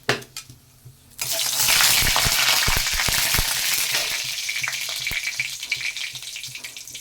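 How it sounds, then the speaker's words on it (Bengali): Loud, close sizzle as black cumin seeds and a broken dried red chilli hit hot mustard oil in a pan, bursting in suddenly after a quiet start and then settling into steady crackling frying. "তাতে দিয়ে দিলাম সর্ষের তেল তেলটা গরম হয়ে গেছে এখন কালো জিরা দিয়ে দিলাম আর একটা শুকনো লঙ্কা ভেঙে দিয়ে দিলাম"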